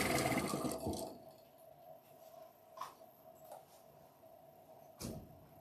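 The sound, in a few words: sewing machine stitching after needle change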